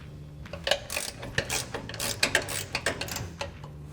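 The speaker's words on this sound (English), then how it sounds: "I'm using a 15mm ratcheting wrench for these three." Ratcheting 15mm wrench loosening bolts on a 2021-2023 Ford F-150's front suspension during a lift kit install, giving repeated quick metallic clicks and ticks in uneven bursts, close by and fairly clear.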